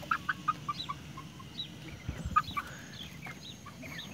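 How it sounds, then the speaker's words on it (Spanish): Chickens cluck and call inside a small coop, a run of sharp, repeated clucks near the listener over a low background rustle, with no voices. "Por lo menos se ven los 9 pollos sano y salvo."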